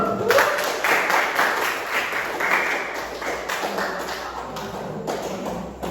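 A classroom full of students claps together, a dense, steady patter of applause lasting throughout with no one speaking.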